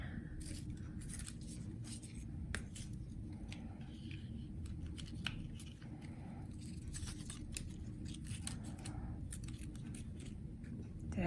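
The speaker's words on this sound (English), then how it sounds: "I just tear it into little smaller pieces that I know will fit on my paper" Paper is torn by hand into small pieces for a collage during an art lesson, giving repeated short rips and crinkles over a steady low background hum, close and fairly quiet.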